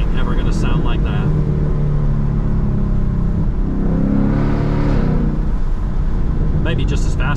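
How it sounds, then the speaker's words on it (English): A loud Ford Mustang GT V8 engine rumbles continuously and swells in a revving surge midway, with a throaty low roar throughout. "But there's something about the sound of a V8."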